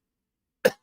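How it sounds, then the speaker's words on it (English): A single short, sharp cough bursts out close to the microphone after a moment of silence. "I keep coughing a lot throughout this live stream."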